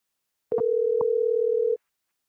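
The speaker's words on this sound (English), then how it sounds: "Y'all hear it ringing, right? He's not answering." A single long, steady telephone ringback tone from an unanswered call, sounding once for about a second with a faint click at its start, then cutting off into silence.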